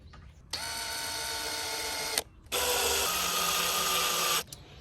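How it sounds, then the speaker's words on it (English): A power drill bores pilot holes for mounting solar string light brackets, two close, steady whirring bursts of about a second and a half and two seconds separated by a brief pause. "So real quick, I'm just going to drill my pilot holes."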